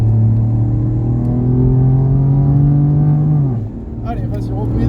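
A race car engine on the Mireval track holds a loud, steady drone under partial throttle, then drops in pitch as the driver eases off before picking up again, with the car close by and no clear talk over it.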